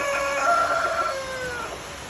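A rooster crows once, a long drawn-out call with a clear harmonic tone that rises and then fades over about two seconds. It is fairly close and loud, with no talking.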